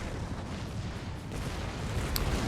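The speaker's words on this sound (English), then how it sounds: "Howitzer shells coming in, just exploding everything" Howitzer shells landing in a large-scale musket-era battle game, a steady rumbling barrage of low booms and crackling blasts with no distinct single impact, loud and continuous throughout.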